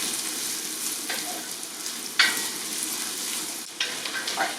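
Vegetables caramelizing in hot oil in a pot for Peruvian chaufa, a constant close sizzle with occasional scrapes and clinks as they are stirred, no voices.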